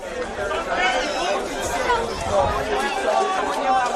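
Spectators at a South Hobart versus Kingborough Lions NPL football match chatter and call out, a lively babble of many voices close by.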